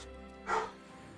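A dog in Hogwarts Legacy gives a single short bark at moderate distance, over a steady low game ambience.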